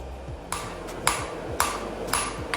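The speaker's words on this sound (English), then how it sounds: "And now we've just started forging the knife, as you've seen. Doing like the tang." A hammer striking hot steel on an anvil while forging the tang of a bushcraft knife, giving sharp ringing metallic blows at a steady rhythm of about two per second with faint extra taps between them, close up.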